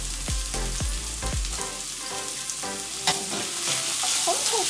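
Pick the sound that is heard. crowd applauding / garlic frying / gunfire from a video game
garlic frying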